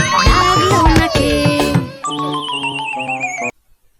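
Horse neighing in a children's alphabet song, a loud, high whinny with a shaky, descending pitch, followed by a bright tinkling jingle.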